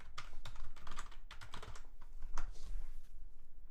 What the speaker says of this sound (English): I'm going to YouTube and I'm typing in Bailey Sarian.